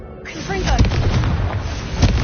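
A Confringo fire spell blast from a Harry Potter video game, a booming burst followed by a second impact near the end, heard close over music and game sounds.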